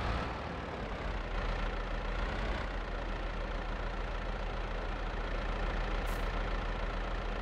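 A Ford tractor engine in a farming video game drones at a constant steady pitch, running continuously at an even level with a low rumble, and no one speaks.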